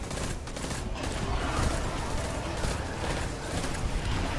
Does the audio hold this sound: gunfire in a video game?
yes